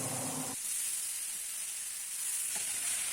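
Chopped bottle gourd dropped into hot oil with a bay leaf and whole cumin, a steady loud hiss and sizzle continuing after a brief clatter at the start.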